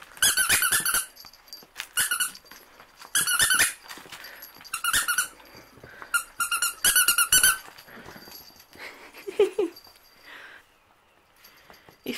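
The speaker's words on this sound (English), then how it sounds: "Finally learned how to make the tail squeak a squeak, and he growls at it" A puppy plays with a squeaky dog toy, setting off repeated bursts of sharp squeaks from its tail, with short pauses and a brief low growl near the end. The sound is close and clear.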